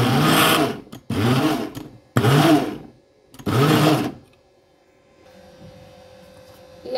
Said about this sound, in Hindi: चॉपर में मैंने इसको ऐड कर लिया, बस मैं इसे चॉप करके अब अमेज़े में शामिल कर दूँगी।